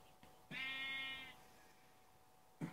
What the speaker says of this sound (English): Wow, hi sheep.